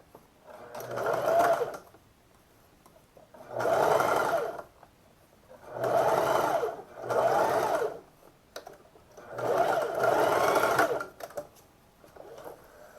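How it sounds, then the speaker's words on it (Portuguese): A sewing machine stitches elastic into the waistband of a pair of shorts, running in four or five distinct bursts of a few seconds each with brief quiet pauses between, close and clear with no talking. "você vai embutir esse elástico e fazer uma costura bem nessa sobrinha"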